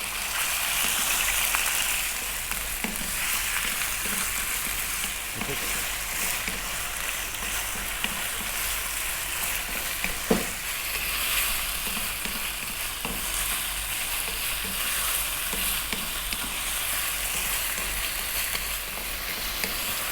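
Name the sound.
small lamb pieces frying and being stirred in a pan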